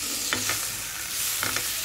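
Two-onion chutney with spices and coriander cooks in a pan, giving a steady sizzle broken by two short pairs of spoon stirs or scrapes.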